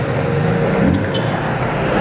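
Cars pass at moderate speed along a road at a curve in Jocotenango, Guatemala, a loud, continuous roadside rush of tires and engines with no talk.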